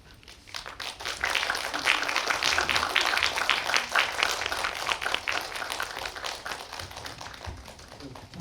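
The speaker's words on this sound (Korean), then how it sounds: "입장하실 때 뜨거운 박수 부탁드립니다." Audience in a small indie cinema applauds warmly as the director and actors walk in for a post-screening talk, a dense, steady patter of clapping that swells and holds for several seconds.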